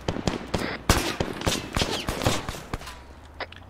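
Rapid gunfire in an Arma 3 battle on Altis: a burst of sharp, loud shots at irregular close intervals over a few seconds, some nearer and punchier, others thinner and more distant, with no voices.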